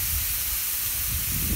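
Korean beef strips hiss and sizzle steadily on a hot Camp Chef flat top grill, a brief, fairly quiet wash of searing noise with no voices.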